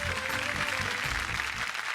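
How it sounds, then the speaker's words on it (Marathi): An audience on a television game show gives a contestant loud applause, a dense uninterrupted wash of clapping mixed with a low musical hum. "चला जोरदार टाळ्या होऊन जाऊ देत."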